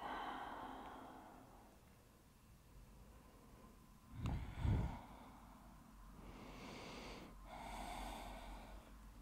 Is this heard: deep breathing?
yes